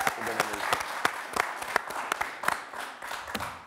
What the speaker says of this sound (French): On peut l'applaudir, non?